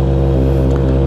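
A Honda CB650R engine revs loud and close in a deep, throaty roar, held steady with a slight rise in pitch across one brief burst.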